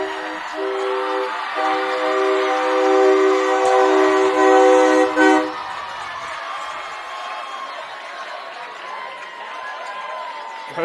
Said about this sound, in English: Golf cart turned into a little train mobile with a train air horn on it.